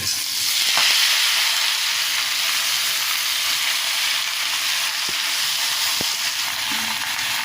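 Chopped vegetables and green chillies fry in a pan over a lowered flame for a Bengali vegetarian curry with lentil bori, a loud, steady sizzle running throughout with a few brief clicks of stirring.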